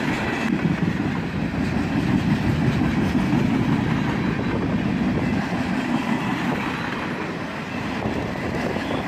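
Freight train led by an ex-Louisville and Nashville SD42 and a 1995-built AC44CW in its old paint rolls past, a loud, steady rumble with rhythmic clickety-clack of wheels on rail and engine drone.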